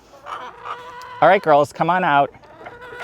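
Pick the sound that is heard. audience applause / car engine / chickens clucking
chickens clucking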